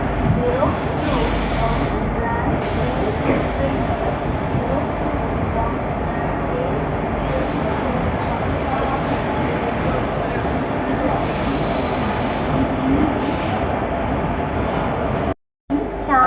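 A dense, steady rumble of a WAP-4 electric locomotive hauling a Jan Shatabdi Express at a station fills the space, loud and continuous with a brief dropout near the end.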